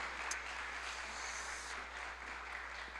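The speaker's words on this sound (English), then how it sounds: "Y'all give the panel a round of applause." An audience applauds a panel, a steady wash of clapping that holds evenly throughout, fairly faint and with no voices over it.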